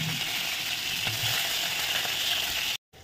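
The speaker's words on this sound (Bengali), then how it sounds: "তেলে আমি দিয়ে দেবো সিম" Flat beans fry in oil in a wok, giving a steady, close sizzle that holds evenly throughout before cutting out abruptly near the end.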